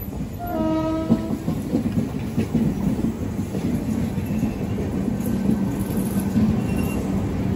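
The MGR Chennai Central–New Delhi Grand Trunk Express rolls past at close range in a rumbling, clattering rush. A brief horn sounds near the start, followed by continuous wheel noise and steel screeching.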